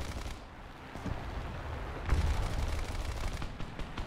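Rapid autocannon bursts from a SARC Mk VI armoured car's 2-pounder gun in War Thunder, a dense rolling stream of booming shots that swells louder midway and runs steadily to the end, with no talk.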